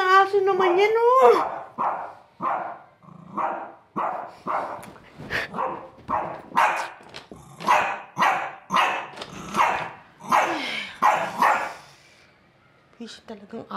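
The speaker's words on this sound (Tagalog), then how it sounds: "Pisit na aso naman yan, oh." A neighbor's dog barks in a rapid, loud run of close yaps and barks, rising to a steady rhythmic burst before falling quiet near the end.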